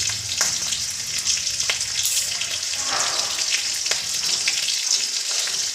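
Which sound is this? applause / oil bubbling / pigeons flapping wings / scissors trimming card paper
oil bubbling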